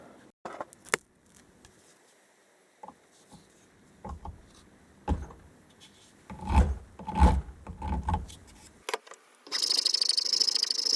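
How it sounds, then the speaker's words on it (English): Filing and shaping a new epoxied knife handle by hand, with intermittent rasping strokes that are sparse at first, then build into a louder run of scraping before a steady bright hiss at the end. "So now on to the next step, which is filing and shaping."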